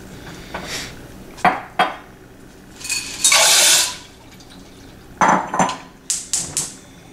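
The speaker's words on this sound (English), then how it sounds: "Now you get 2 cups of water and put it in the pan with the pasta for 8 to 10 minutes." Pots and pans clatter and clink on a stovetop as water and pasta are handled for cooking, with several sharp metallic knocks, a brief pouring or splashing burst, and a run of quick clanks, all close and without talk.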